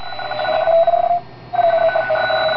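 A warbling electronic tone from an oscillating homebuilt regenerative radio receiver, buzzy and data-like, cuts out briefly in the middle, then resumes, with no talking.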